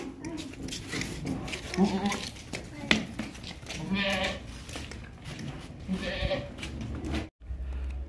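A broad-chested red-and-white goat bleats repeatedly among other livestock, its calls loud and close, mixed with steady human talk throughout and a brief break near the end.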